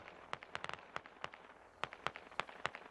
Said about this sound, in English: Uptown getting some shots in on the east side here